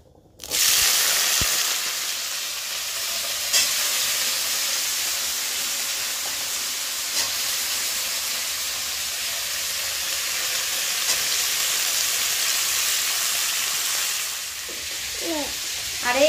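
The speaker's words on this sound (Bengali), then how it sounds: "চলো আলু ভাজাটা বসিয়ে দেই।" Potatoes fry in a hot wok-style pan, giving a loud, steady sizzle and hiss from the moment they go in, holding evenly throughout with a few faint stirring clicks near the end.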